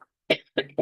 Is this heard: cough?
yes